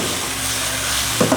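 Noodles stir-fried with oyster sauce and black vinegar in a hot pan until caramelized, a steady close sizzle with a couple of louder stirring scrapes near the end.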